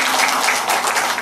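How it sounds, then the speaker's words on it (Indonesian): Short burst of audience applause at an official gathering in Brebes, Indonesia, welcoming a government minister: a dense, steady clatter of many hands lasting about a second. "Tepuk tangan untuk beliau."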